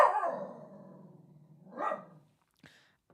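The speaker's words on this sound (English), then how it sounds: "this dog won't stop barking" A dog barks close by, one drawn-out bark followed by a second sharper one and then a faint short yip, with silence between them.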